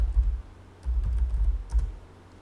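Keystrokes on a computer keyboard while entering a DNS lookup target, in three quick bursts of clicking, fairly close and moderately loud, with no talk.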